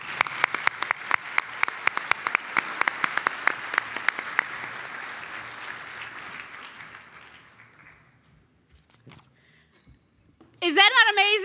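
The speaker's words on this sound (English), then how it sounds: "Let's give them a round of applause." Applause from a gala ball audience, dense clapping with sharp individual claps near the front, gradually fading to silence before a voice speaks briefly at the end.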